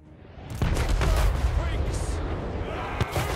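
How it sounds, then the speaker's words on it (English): Cannon fire in a Total War Warhammer 3 battle, a heavy boom followed by rolling rumble and scattered further reports, under loud battle noise with voices present. "Oh, that's what those cannons do?"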